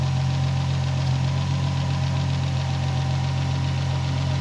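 A Toyota JZX90 engine with a fuel system fault runs on a dyno, giving a steady, loud, low drone with an even hum and no change in pace, and no voices.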